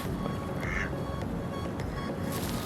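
A goose gives a single short call close by, heard over steady outdoor background noise.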